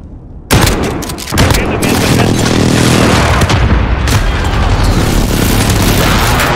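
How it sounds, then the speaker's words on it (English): Precision airstrike explosions in Call of Duty: Modern Warfare burst in loudly after a short quiet moment, followed by a dense, continuous rumble of booms and gunfire. "Enemy precision airstrike inbound."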